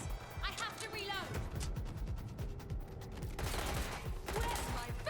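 Rapid bursts of gunfire from a shootout in the video game Watch Dogs Legion, loud and near, with repeated sharp shots running throughout alongside game sounds and voices talking over the action.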